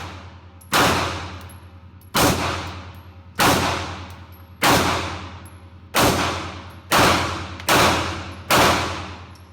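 Seven sharp, loud gunshots from a CZ P-07 pistol fed from a P-10 magazine at a shooting range, evenly spaced about a second apart, each cracking and then ringing down before the next.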